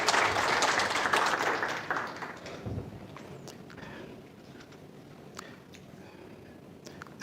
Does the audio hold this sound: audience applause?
yes